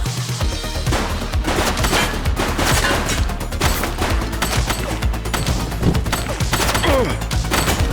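Rapid, continuous gunfire from a police shootout in The Precinct, with dense bursts of shots and sharp impacts filling the whole stretch loudly and without pause.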